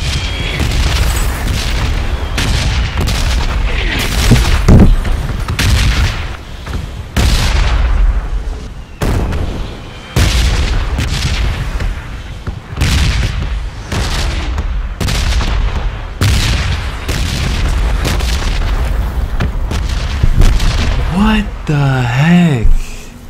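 Repeated booming blasts and gunfire crackle through a PUBG match on Xbox One X, loud bursts arriving every second or two with brief gaps, alongside in-game audio and a distorted warbling sound near the end.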